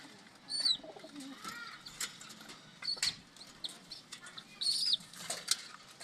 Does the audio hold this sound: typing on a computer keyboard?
no